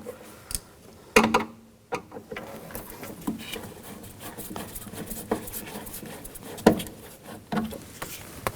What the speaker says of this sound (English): Use a Phillips head screwdriver. Take the screws out.